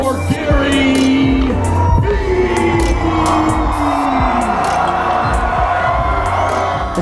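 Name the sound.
audience applause and cheering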